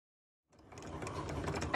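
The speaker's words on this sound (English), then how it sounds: "Right now it's cutting the design and the inside of the words" A Cricut cutting machine starts up after a brief silence and then whirs and clicks steadily at close range as it cuts an infusible ink design.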